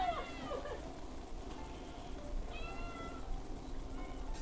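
A cat meows twice, a short cry at the start and a longer drawn-out meow midway, both fairly close over a low steady background hum.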